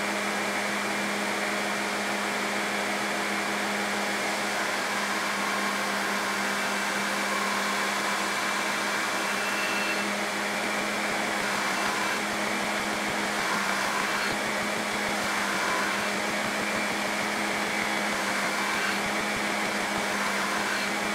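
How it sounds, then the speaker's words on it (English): A belt grinder fitted with a fresh 60 grit ceramic belt grinds the bevels of a sailor's knife blade, making a steady, loud, continuous whir with a constant hum and no pauses, with no talking over it. "it's time to grind the bevels on the blade. I'll begin with a nice fresh 60 grit combat abrasive ceramic belt"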